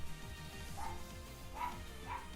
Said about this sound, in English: As my dogs are basically barking in the background